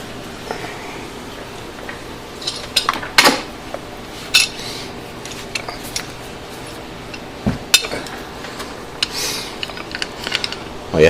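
C-clamp and an old brake pad pressing the caliper piston back on a Nissan Murano front brake, heard as scattered sharp metallic clanks and clicks with quieter handling noises between them.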